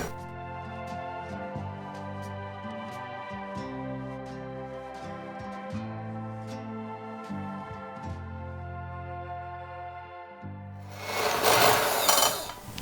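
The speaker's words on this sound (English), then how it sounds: "Now we are going to leave this aside and whisk our egg whites." Egg whites being whisked to soft peaks for savory spinach pancakes, a steady mechanical whir from an electric mixer with shifting tones that runs throughout, then a brief harsher, louder burst near the end, with no talking.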